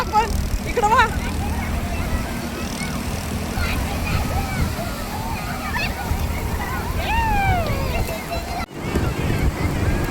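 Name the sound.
ocean waves at Alibag beach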